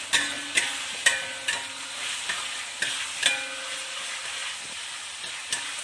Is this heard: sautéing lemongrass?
yes